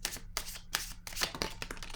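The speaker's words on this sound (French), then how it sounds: "Je vais déposer une carte rose par curiosité" Cards rustle, slide and tap on a table in a few quick, quiet bursts with short pauses between them, close by and with no talk over them.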